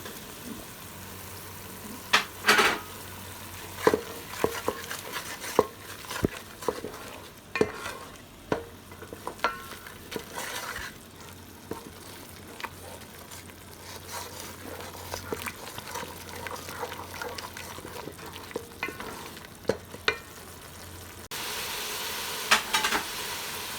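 Spices frying in oil for aloo methi, stirred with a spoon, making a low steady sizzle broken by frequent sharp scrapes and taps of the spoon against the pan over a long stretch.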